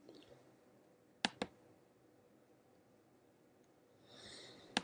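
A computer mouse gives a quick double click, two sharp close taps a fraction of a second apart, followed later by a single click over a quiet room hum.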